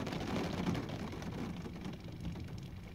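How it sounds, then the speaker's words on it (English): Rain falling outdoors near trees, a soft, steady wash of drops with a muffled low rumble, fairly faint and continuous, no voices. "There's the rain."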